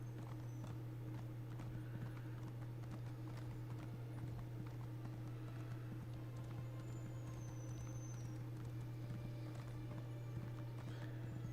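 Horse hooves gallop in the video game Elder Scrolls Online, a continuous rapid clip-clop pattern over a loud steady hum, with no voices.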